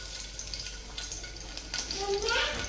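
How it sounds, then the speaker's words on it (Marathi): Cumin and mustard seeds fry with garlic in hot oil for a Marathi dal tempering, a close, busy sizzle with stirring that swells toward the end. "जिरे मोहरी छान तळले. त्यात आता थोडंसं लसूण"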